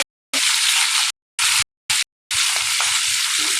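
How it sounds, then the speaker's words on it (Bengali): Hilsa fish sizzles hard in hot oil in a pan, a loud, close hiss broken into several bursts by brief silences, without any talking. "ইলিশ মাছ ভাজছি"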